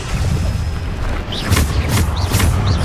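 The Bombarda blasting spell in Hogwarts Legacy goes off as a few close, loud explosive bursts, with crashing impacts following one another in quick succession.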